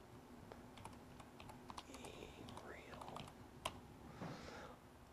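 Keys clack steadily on a computer keyboard while a playlist title is entered on a 3Play 820 system, quick irregular taps close and fairly quiet over low room hum, with no talking.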